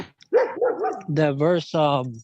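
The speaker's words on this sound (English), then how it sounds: "Sorry about the dog." A dog barks close by in a short run of yips and barks that rise into longer whining howls, with a voice speaking briefly at the same time.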